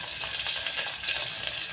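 Carrot and onion fry in a pan for vegetable pulao, making a dense, even hiss close up that runs unbroken through the short stretch with no voices.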